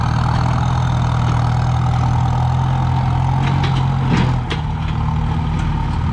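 A Kubota MU5702 tractor engine idling up close, a steady deep diesel rumble with a constant low hum, briefly dipping in level before settling back to an even idle.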